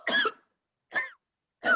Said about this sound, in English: You still got that cough?